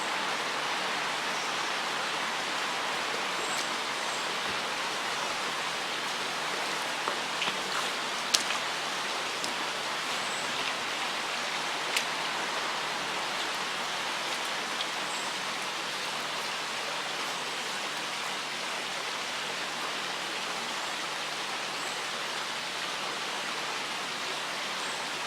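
Steady broadband rush of a river flowing past the Sheaf Hotel in Sheffield, constant and even throughout with no talk, a few faint high chirps above the water.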